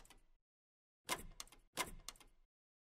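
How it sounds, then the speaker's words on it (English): A door opening in a video game, heard as two short scraping, clattering bursts separated by a brief gap, clean and isolated against silence. "Yo, is that that door?"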